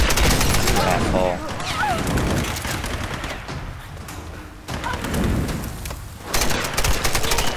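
Bursts of gunfire and heavy thuds in the 2013 Tomb Raider video game, loud and repeated through the stretch with brief lulls, while someone talks over the shooting.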